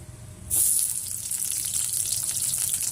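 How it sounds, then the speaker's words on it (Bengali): Onion dropped into hot oil in a wok over high flame for chow mein: a sudden loud sizzle bursts in, then settles into a steady, close frying hiss. "এই তেলের মধ্যে এবার আমি একে একে সবজিগুলো দিয়ে দেবো। তো প্রথমে পেঁয়াজটা দেব"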